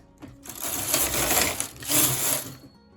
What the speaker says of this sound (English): go ahead and knit 2 rows